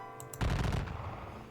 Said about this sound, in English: Just to exchange the gunfire for the most part.